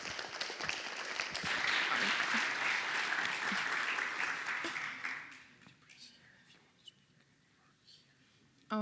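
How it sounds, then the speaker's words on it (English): Conference audience applauding a speaker in an auditorium at PyCon Greece 2025, a full wash of clapping for about five seconds that fades out, followed by near-quiet room tone. "Give a big round of applause for her"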